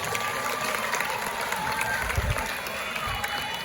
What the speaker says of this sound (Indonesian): Tepuk tangan dulu untuk seluruh adik-adik.